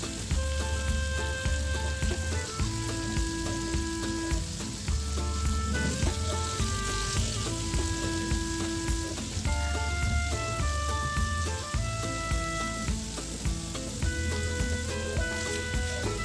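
Paneer frying in a pan crackles with a continuous, rain-like sizzle that stays loud and even for the whole stretch, close to the microphone with no speech, though a layer of background music runs underneath.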